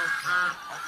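Angsa keling goose calling, a short nasal honk followed by a fainter second honk, heard close and fairly quiet.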